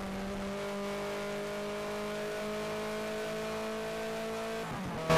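A car engine in the racing video game Auto Club Revolution drones at a steady, high-pitched rev, holding one tone for several seconds before an abrupt shift and a sudden loud burst at the end.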